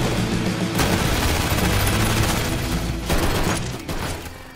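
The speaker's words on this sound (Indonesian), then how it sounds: "terjadilah aksi tembak-tembakan" Dense, continuous gunfire in an action film shootout rattles loudly, rapid shots blending into a sustained barrage with a few heavier bursts.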